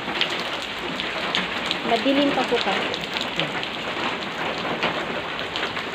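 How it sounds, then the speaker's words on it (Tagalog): Very heavy rain pours steadily during a flood-level downpour, a dense continuous hiss heard from indoors, with someone speaking briefly over it. "so super lakas po ng ulan."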